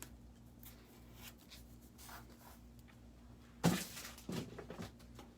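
A blade cuts a paper Halloween door tag shape with quiet scratchy strokes and faint rustling, then a couple of sharper close scrapes and a small knock toward the end, with no talk.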